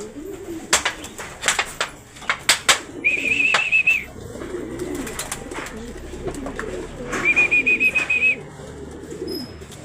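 A pigeon coos in low, rolling phrases during a pigeon training session in San Miguel, Bulacan, mixed with sharp clicks and two short, steady whistled tones.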